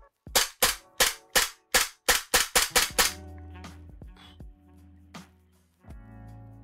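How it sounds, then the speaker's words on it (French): A Cybergun FNX 45 airsoft replica pistol fires about ten sharp, snappy shots in a quick, even rhythm up close, followed by a few faint clicks and handling noises over a low hum. "c'est très satisfaisant de tirer avec cette réplique"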